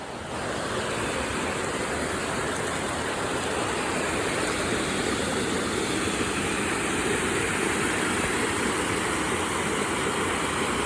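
Ice-cold mountain stream water rushes steadily and close by, a dense, unbroken flowing roar that lasts the whole stretch with no voices.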